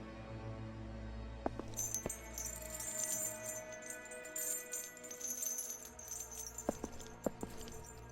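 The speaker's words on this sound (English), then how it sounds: "I hear the chains are shuffling." Chains shuffling and jangling with a metallic rattle in SCP: Secret Files, in scattered bursts and sharp clinks over a steady game ambience.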